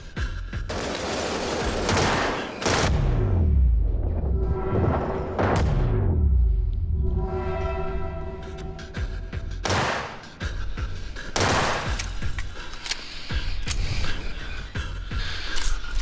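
Repeated heavy gunfire from a corner gun in the Get Even video game, loud and close, with booming shots and sweeping resonant tails over a dense, continuous game soundscape.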